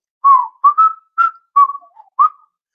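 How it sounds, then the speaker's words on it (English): A person whistles a short tune alone, six clear sustained notes with brief gaps, some sliding in pitch, close and fairly loud. "You can whistle"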